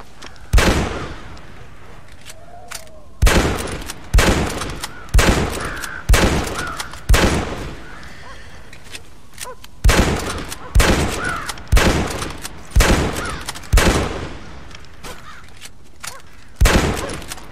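Gunfire in the video game Red Dead Redemption, used to shoot crows: sharp, loud single shots ring out in uneven clusters with short gaps between them, and a voice talks faintly between the shots.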